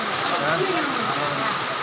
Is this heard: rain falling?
yes